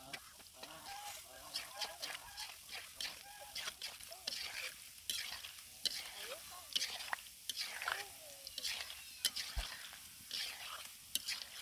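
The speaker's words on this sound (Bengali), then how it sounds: "মিডিয়াম জালেই নাড়ুগুলো ভেজে নিতে হবে।" Nadu sweets frying in oil over a medium flame while being stirred, a steady sizzle with scraping stir noises and soft clatter, close up, with faint murmuring voices.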